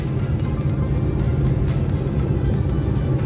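A long-haul TIR truck descends a steep ramp on its engine brake, giving a constant deep, loud rumble with a faint rhythmic pulsing and no talking.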